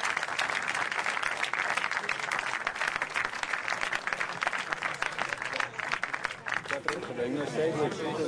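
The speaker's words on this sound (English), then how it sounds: "There's more applause in the control room." Applause breaks out in the Large Hadron Collider control room as the first 7 TeV collisions arrive, a sustained round of clapping mixed with cheering and chatter that thins out toward the end.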